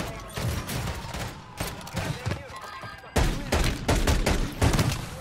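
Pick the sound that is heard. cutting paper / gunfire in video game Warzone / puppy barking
gunfire in video game Warzone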